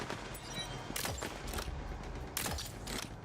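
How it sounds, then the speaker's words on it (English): Gunfire in the video game Tiny Tina's Wonderlands, a few sharp shots cracking over a busy game soundscape at moderate volume. "Sorry, that was supposed to be a warning shot."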